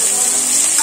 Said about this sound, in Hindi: प्याज हमारे ब्राउन हो रहे हैं, गोल्डन ब्राउन।